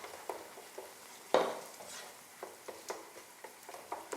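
A spoon scrapes through stuffed pepper filling with tomato paste in a sizzling pan, giving soft rhythmic strokes with one sharper clack and a faint frying hiss underneath.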